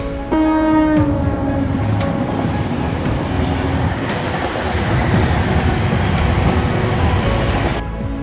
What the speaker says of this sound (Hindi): अब आ रही है तूफानी सेंट्रल रेलवेज की राजधानी